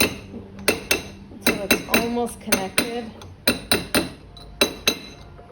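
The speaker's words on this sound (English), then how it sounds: "First I'll take that flatter part of my hammer," Sharp, bright metallic taps of a hammer shaping a 22k gold ring at a goldsmith's bench, about a dozen close blows in an uneven rhythm, with a voice speaking briefly between them.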